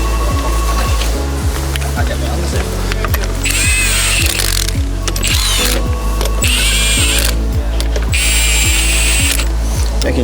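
Repeated rapid ratchet clicking in regular bursts as car wheel nuts are tightened while refitting the wheels, loud and close, with intermittent higher whirring from a power tool between the runs of clicks.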